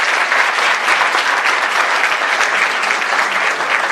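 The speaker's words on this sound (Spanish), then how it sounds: "Un aplauso, por favor." A conference audience in Mexico breaks into sustained, loud applause, many hands clapping together evenly without a pause.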